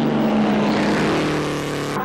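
Vintage racing cars, an Alvis and a Lagonda, in a handicap race for vintage racing cars, roar loudly past at close range, the engine note sustained and dense and falling slightly as they go by.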